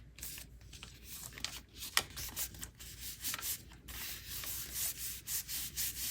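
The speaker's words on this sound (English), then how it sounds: "And I fold it over and just burnish it down." Paper is folded over and burnished down onto a Halloween junk journal, close, quiet rubbing strokes in an uneven rhythm, with brief scraping bursts and no speech.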